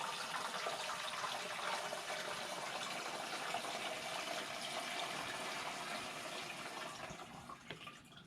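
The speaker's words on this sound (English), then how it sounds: "we're just going to pour in a little water" Water is poured into an off-grid camp shower unit, a continuous, steady splashing gush lasting several seconds at moderate level before easing slightly near the end.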